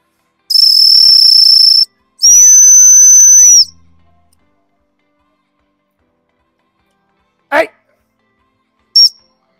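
Two long, shrill dog-training whistle blasts for a working Cocker Spaniel, the second with a warbling trill, followed after a pause by a brief noise and one short, sharp peep.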